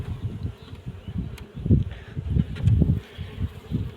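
Honeybees buzz close by at the hive in an uneven swarm, the droning hum rising and falling in bursts with light rustling and handling noises as bees are shaken off frames.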